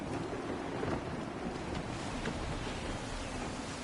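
Wind at sea in Assassin's Creed III blows as a continuous broad rush with waves and ship noise, steady and fairly loud throughout, with no voices.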